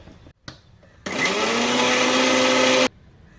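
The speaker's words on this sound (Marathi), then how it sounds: "आणि याचं मिक्सरवरती दूध काढून घ्यायचं" A kitchen mixer grinder whirs loudly for about two seconds, grinding grated coconut with warm water into milk, starting abruptly after a few faint knocks and stopping just as suddenly.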